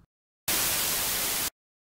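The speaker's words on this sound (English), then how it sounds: "Turn all 3 oscillators to the noise waveform." A single one-second burst of flat, hissing white noise from a software synth with all three oscillators set to a noise waveform, starting and stopping abruptly against silence.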